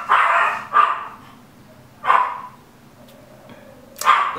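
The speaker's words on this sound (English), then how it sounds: "That is my little dog Austin" A small dog barks sharply several times, close and loud, in scattered bursts separated by short pauses.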